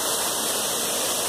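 Véu da Noiva waterfall on a forest trail in Guapimirim, Brazil, roaring as a steady, broad wash of falling water, close and unbroken throughout.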